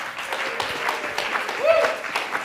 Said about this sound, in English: Round of applause for Molly Stock.